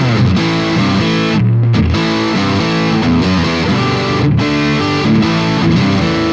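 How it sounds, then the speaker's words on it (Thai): An electro-acoustic guitar played through a heavy distortion effect, thick fuzzy chords sustaining continuously and loudly, with a buzzy, saturated tone and no speech. "เปิดเสียงแตกดูนะครับ"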